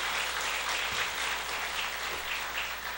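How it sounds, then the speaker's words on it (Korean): Steady, dense applause from a church congregation at a Sunday morning service fills the space evenly and continuously, with no voices over it. "참 잘하셨다고 큰 박수 한번 해주시기 바랍니다."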